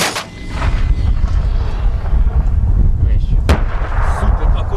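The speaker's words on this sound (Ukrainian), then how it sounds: "Тепер же вчиться стріляти зі ствольного гранатомета." A barrel-mounted grenade launcher fires with a loud boom close by, followed by a sharp crack, over heavy rumbling wind and outdoor noise.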